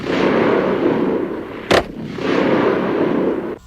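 A Heckler & Koch G11 assault rifle firing caseless ammunition: one sharp, loud report stands out midway through a steady wash of broadband noise, with no talking.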